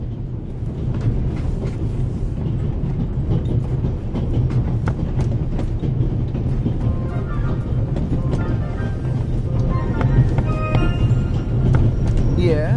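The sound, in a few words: train rattling on rails, from video game The Raven Remastered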